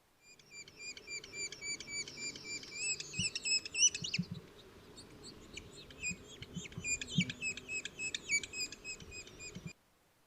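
Woodpecker chicks giving a begging call deep in a pine forest near Bluff Lake, Big Bear Lake: a steady stream of high, rapid, raspy chirps that runs close and fairly loud for about ten seconds over low background rumble, with no talking.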